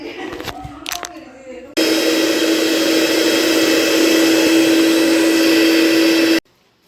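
An electric mixer grinder runs loud and steady for about five seconds with a strong hum, then stops abruptly; brief talk and handling noises come before it starts in a home kitchen.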